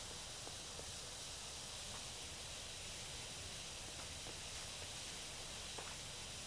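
A pressure washer spraying a climbing pole guard in PowerWash Simulator gives a steady, even, hissing spray that holds unbroken and fairly faint, with a few soft ticks over it.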